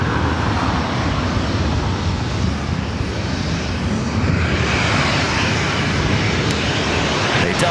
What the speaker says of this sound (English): Delta 737-900ER heading to Seattle, flight 1393.